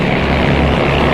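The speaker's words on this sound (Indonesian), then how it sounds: "Pesawat tempur mereka beriringan," Fighter jets in a formation flight over clouds toward the Laos border, a steady loud engine roar and drone holding evenly throughout with no voices.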